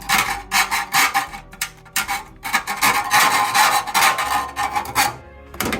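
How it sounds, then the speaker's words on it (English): Hand files rasping hard against a metal cookie tin, loud close rhythmic back-and-forth strokes in quick bursts with short gaps between them. "I just gotta sit here with these files now and just file the ever-living crap out of this"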